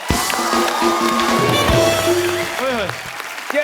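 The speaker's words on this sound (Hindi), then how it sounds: "बाबा जी के लिए जोरदार तालियां हो जाएं" Studio audience claps and cheers for Baba Ramdev at a Kapil Sharma Show comedy taping, loud and steady, with a voice and other talk mixed in over it.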